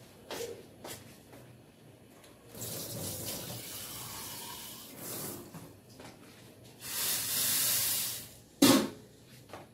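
Water poured into a cooking pot while boiling hilsa fish, a soft splashing stream in a few bursts with hissing between, fairly faint and without talk.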